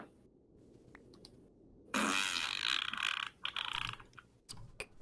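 A loud, raspy fart-like blast bursts out close to the mic, lasting over a second, followed by a few shorter sputters and small clicks.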